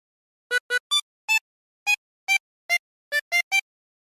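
A harmonica plays an opening phrase as ten short, clean notes in a quick, uneven rhythm with silence between them, close and clear with no talking.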